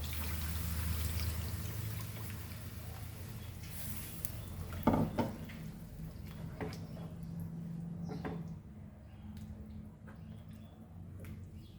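A cup of water poured into a pot of mutton trotters curry with East Indian bottle masala, a soft splashing pour followed by a clunk and quieter trickling.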